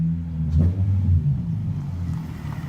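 A Honda Civic with a K20 engine runs after repair, a low steady rumble with a brief rise in revs early on, heard close and alone.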